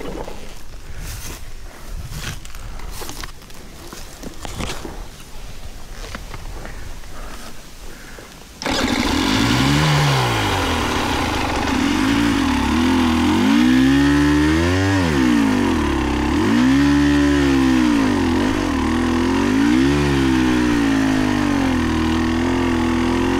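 Enduro motorcycle on a mountain trail, its engine starting after a stretch of rougher noise, then revving up and down in repeated loud swells close by, with no talk.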